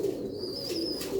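Ali wale pigeons from Sialkot cooing softly, a low repeated coo close by, with a faint high-pitched whistle-like tone running over it.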